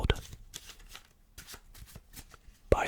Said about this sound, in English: the deck can be completely shuffled